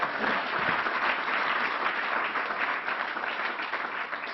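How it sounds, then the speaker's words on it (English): Steady audience applause at a New York state news conference, dense and sustained throughout with no speech over it. "Let's give Eric a round of applause."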